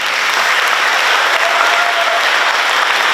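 A hall audience at an Education Week 2022 event gives a round of applause, a steady, loud wash of many hands clapping that holds evenly throughout with no voices over it.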